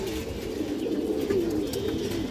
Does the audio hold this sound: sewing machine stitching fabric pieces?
no